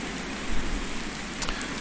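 Rain pours steadily in a Farming Simulator 19 farmyard, an even, dense hiss of drops with no voices and one brief faint knock near the end.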